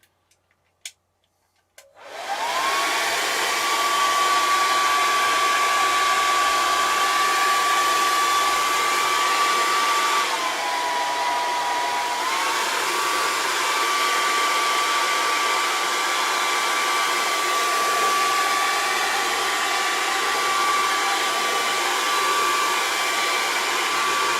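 A hair dryer clicks on and blows steadily over a watercolour painting, a loud continuous whirring whine with a brief dip in pitch partway through, running alone for over twenty seconds.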